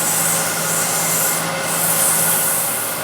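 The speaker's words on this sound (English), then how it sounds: "just sand the bottom. 240 grit, I think should be okay." Steady, loud rubbing of 240 grit sandpaper across the bottom of a wooden piece, a continuous close scratching hiss with no pauses and no talking.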